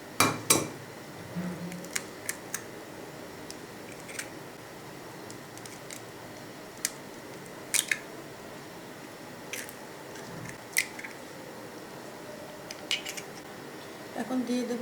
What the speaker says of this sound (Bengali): এখন আমি ডিমগুলো ফাটিয়ে নেব।